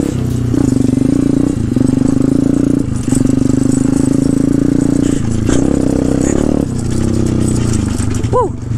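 A pit bike engine roars loud and close while being ridden over jumps, a continuous buzzing drone that rises and falls with throttle and gear changes, with rattling knocks near the end.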